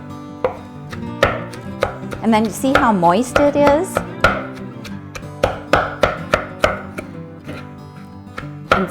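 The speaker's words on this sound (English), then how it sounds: "Just have to get a little more chopping done here." Salad vegetables are chopped in a Holland wood bowl with a steady series of sharp, close knocks. A brief squeaky scraping passage sits in the middle, and a voice speaks partway through.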